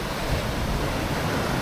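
Big ocean waves crash on the beach at Mauban, Quezon at high tide under the northeast monsoon wind, heard as a steady, loud, close surf roar with no pause and no voices.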